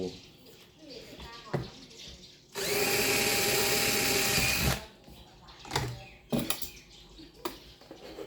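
A power drill bores a hole in a press block used for pressing waterproof amulet casings, running loud and steady for about two seconds. Clicks and handling knocks come before and after.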